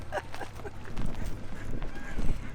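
Geese honking on an Italian farm, a few scattered calls rising over a steady low hum and rustling background noise, with faint speech mixed in.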